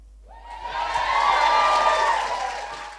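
An event audience cheering and whooping, rising within a fraction of a second to a loud, sustained crowd roar that holds for a couple of seconds and then begins to fade.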